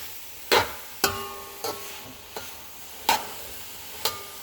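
A spatula scrapes and clanks against the pan in separate strokes while cooked rice and small bits of carrot stir-fry for Ghana-style fried rice, with a soft sizzle running underneath.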